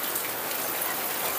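Steady rain falling outdoors over a catfish farming pond, a dense even hiss of drops landing on surfaces, moderately loud and continuous with no talking.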